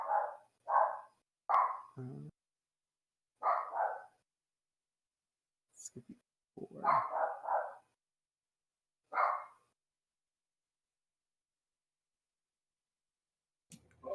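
A dog barks nearby in several short bursts of single and double barks, separated by gaps of silence, with brief clicks and faint talk in between.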